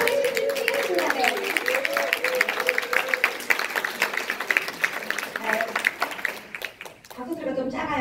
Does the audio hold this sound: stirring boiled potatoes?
no